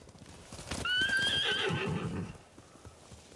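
A samurai's horse in a video game whinnies loudly and close, a rising then falling neigh lasting about a second and a half, with faint background ambience before and after.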